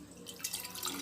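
Cold fridge water pours for a Tang orange drink, a short splashing gush that grows slightly louder as it flows.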